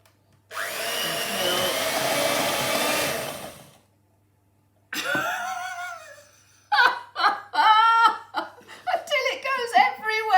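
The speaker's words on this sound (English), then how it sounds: "I'm going to use the electric mixer, and we just need to beat the sugar with the butter" A fast electric mixer beats sugar and butter for brownies, a steady loud whir running about three seconds before cutting off, followed by children laughing and talking close by.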